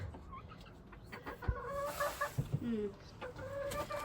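Chickens at a farm give a string of close clucks and throaty calls over a quiet background, several birds sounding off irregularly.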